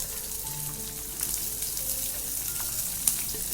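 Finely chopped shallots hiss and sizzle steadily in hot oil, a close, continuous frying noise with faint watery crackle, cooking for a Chettinad-style chicken uppu kari.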